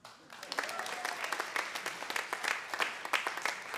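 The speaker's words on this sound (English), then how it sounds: "Give a round of applause for yourself." An audience applauds at a live comedy event, a dense burst of clapping that holds steady across the moment and sounds near and full.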